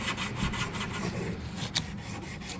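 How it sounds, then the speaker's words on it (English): Sandpaper rubbing back and forth on a plumbing pipe, a steady close scraping friction sound with a few brief stronger strokes, heard alone with no talk. "I always like finishing it off once you use the sandpaper."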